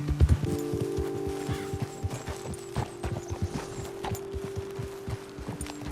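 Horses' hooves clip-clop in the video game Red Dead Redemption 2, a brisk, steady rhythm of close, sharp hoof strikes over a low ambient hum, with no talk.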